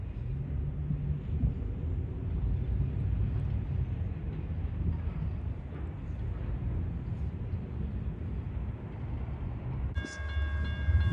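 A southbound CSX intermodal freight train rolls past with a steady low rumble at moderate distance, and a brief horn-like tone enters near the end.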